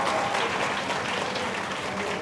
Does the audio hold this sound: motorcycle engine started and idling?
no